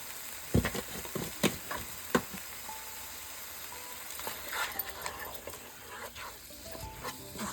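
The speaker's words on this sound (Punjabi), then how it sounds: "ਇਹਨਾਂ ਨੂੰ ਹਿਲਾ ਕੇ ਮਿਕਸ ਕਰ ਲੈਣਾ" Kashmiri red chilli, homemade garam masala and spices stirred and fried in a pan, with soft sizzling under repeated sharp scrapes and clinks of a spoon against the metal, close and alone with no voices.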